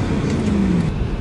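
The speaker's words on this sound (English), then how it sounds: "And more importantly, the sound of this car is just beautiful." Mercedes C63 AMG with its 336 kW engine, a steady low engine drone with a rising tonal hum, close and continuous with road noise underneath.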